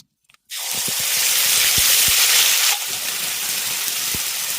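A paste of onion, ginger, garlic and dried chili drops into hot mustard oil and erupts into a loud, sudden, continuous hissing sizzle that eases slightly partway through and keeps going, with no one talking.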